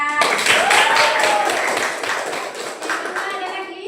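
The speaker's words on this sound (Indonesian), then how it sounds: "Tepuk tangan." Children in a classroom clap their hands in a brief burst of quick, uneven claps close by, with young voices mixed in.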